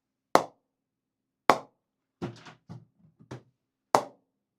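Cricket ball dropped onto an SS Custom English willow bat weighing 1125 grams, four sharp, hollow knocks spaced about a second apart, each one close and clean with quiet between, plus a few softer bounces in the middle.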